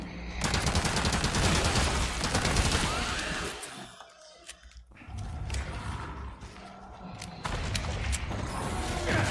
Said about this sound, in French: Alors, t'es quoi? T'es une mitraillette.